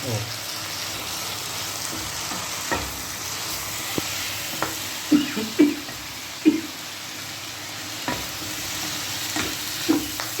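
Dry dragon chicken pieces with soy sauce fry in a pan under a steady close sizzle, with repeated clattering stirs and scrapes through it and a voice speaking briefly.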